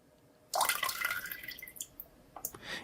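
A stream of water drains from a tank outlet during a fluid mechanics demonstration, starting abruptly and splashing steadily, fairly close, with uneven surges toward the end.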